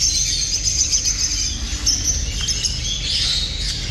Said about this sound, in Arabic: هاي طيور الحوض